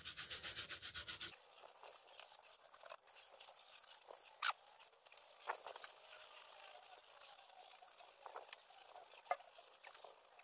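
A brush or cloth scrubs closely over a car wheel rim, working into fine grooves with a soft continuous rubbing and scratching, after a brief opening burst of rapid rhythmic strokes, with occasional small knocks.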